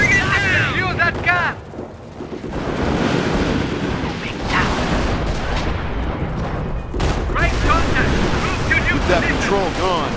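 Gunfire and booming blasts in a Company of Heroes Battle of the Bulge battle, a dense, continuous din of shots and explosions heard under shouted voices and orders.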